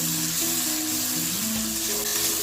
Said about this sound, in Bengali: আমার বৌমা টমেটো কুচি দিয়ে দিচ্ছে।